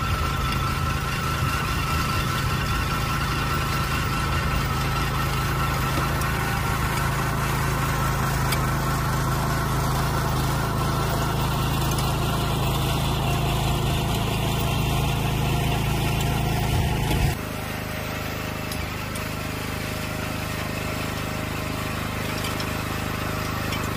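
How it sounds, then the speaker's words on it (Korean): A walk-behind cultivator with its tilling blades swapped so soil is thrown to one side runs steadily while cutting a furrow, a continuous loud engine drone that drops to a quieter idle near the end. "지금 관리기 날을 하나를 바꿔 껴서 같은 방향으로 흙이 날아가게"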